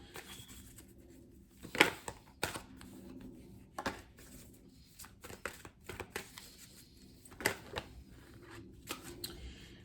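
Angel cards being shuffled by hand, a soft papery riffle and flutter with occasional sharper snaps, close and quiet, continuing steadily without talk.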